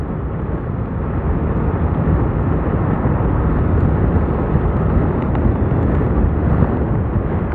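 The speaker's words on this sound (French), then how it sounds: "je suis désolé, il y a un peu de vent aujourd'hui" Strong wind rushing over the microphone while riding a Yamaha Niken three-wheeled motorcycle, a loud, continuous low-heavy buffeting roar with no speech.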